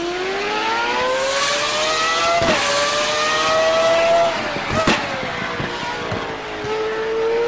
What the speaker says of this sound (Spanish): pero lleva un motor de F1, lleva un V10, ¿vale? Porque mirad cómo suena esto.